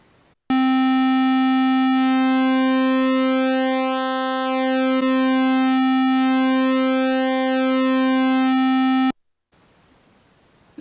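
A loud, sustained buzzy square-wave tone from an Arturia MicroBrute synthesizer with slowly shifting, phasing overtones from pulse width modulation, playing alone for about eight seconds.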